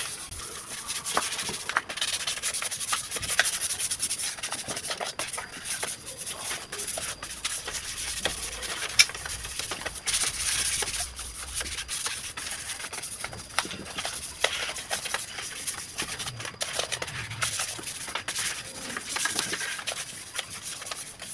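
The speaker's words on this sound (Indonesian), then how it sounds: "kita amplas semuanya ya, sampai halus" Dutch teak (jati Belanda) wood sanded smooth by hand: continuous dry rubbing and shuffling scrape with steady rhythm, close and moderately loud, no voices.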